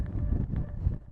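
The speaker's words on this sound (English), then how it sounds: "right now we're seeing some major wind gusts" Strong wind gusts buffet an outdoor riverfront park during a high-wind storm, a steady low roar of wind noise rumbling against the microphone with no voices.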